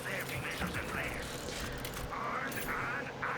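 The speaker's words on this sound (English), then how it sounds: "So just melee the machine, which does trigger a bit of a scan" A vending machine in Borderlands 4 runs a scan after being hit with a melee strike, giving off a short run of mechanical whirring and ratcheting clicks beneath a speaking voice.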